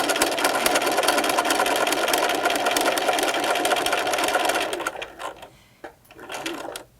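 A sewing machine stitches a face mask with a window, a steady close mechanical whir running for several seconds, then slowing and stopping in short bursts.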